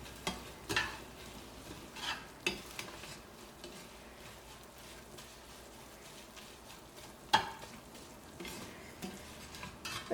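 A spoon stirs fried vermicelli and cashews into caramel in a pan, making a soft, steady scraping and faint sizzle, broken by a few sharp clicks of utensil against metal.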